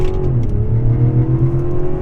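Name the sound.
2024 Mazda CX-90 Turbo SUV accelerating hard with all-wheel drive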